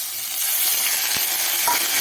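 Ground spice paste hitting hot oil in a pan, a continuous close sizzle with a couple of soft utensil taps and scraping stirs.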